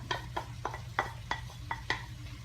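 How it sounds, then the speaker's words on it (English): Onions stirred into a pan of browned beef give a series of sharp utensil scrapes and clacks against the pan, about eight evenly spaced strokes up close over a low kitchen hum. "Once your meat is browned, you're gonna get your onions. And just toss them on in there."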